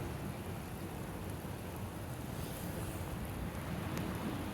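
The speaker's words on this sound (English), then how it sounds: "Ice fishing in the rainstorm." Steady rainstorm on Lake St. Clair during ice fishing, a constant broadband hiss of rain falling on the ice with wind noise underneath, loud and continuous throughout with no talking.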